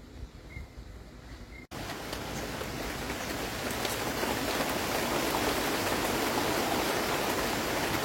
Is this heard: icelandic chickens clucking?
no